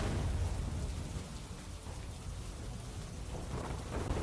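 Heavy rain pours in Gir Somnath, a dense, steady hiss of downpour drumming on surfaces, close and continuous, with deeper rumbling swells suggesting distant thunder and no voices.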